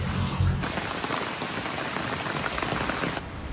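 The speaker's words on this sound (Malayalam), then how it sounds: "എന്നാ മഴ പെയ്യുന്നെന്ന് നോക്കിയേ. വഴി കാണത്തില്ല, അതുപോലെ മഴയാ." Heavy rain pours down in the Western Ghats forest near Kudremukh, Karnataka, a dense, steady hiss that fills the scene throughout.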